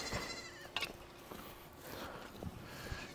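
Goats bleating faintly in scattered calls while being herded uphill, with rustling movement and occasional footsteps in an open outdoor setting.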